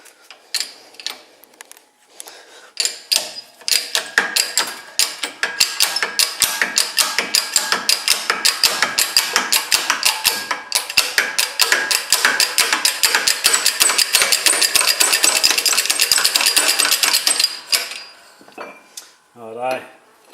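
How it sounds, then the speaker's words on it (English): A hand-cranked press forces the pin out of a Mopar lower control arm bushing with a long run of rapid, loud metallic ratcheting clicks, the rhythm quickening before it stops, with a brief creak near the end. "we're just going to crank down on the press and push that pin out"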